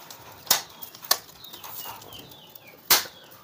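A pigeon being handled and taken out, giving a few sharp, brief bursts of wing flapping at close range with quiet rustling between them.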